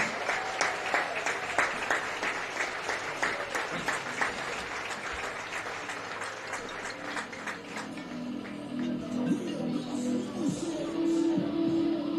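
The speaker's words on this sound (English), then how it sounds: "Let's give them all one more big round of applause" A big round of crowd applause for students and parents at a high school varsity football game, dense clapping that thins out toward the end as background noise and some crowd voices take over.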